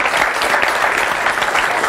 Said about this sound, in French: on l'applaudit, on l'encourage